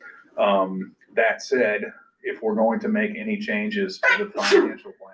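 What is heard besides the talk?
sneeze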